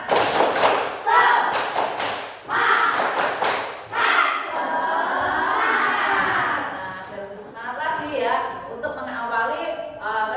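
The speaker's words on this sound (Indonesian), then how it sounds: "kita tepuk semangat dulu ya, biar semangat ya, tepuk semangat" A fifth-grade class of children claps and chants together in a rhythmic group cheer, with sharp bursts of clapping mixed with shouted voices, loud and close.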